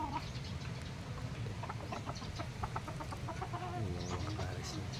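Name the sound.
chicken hen clucking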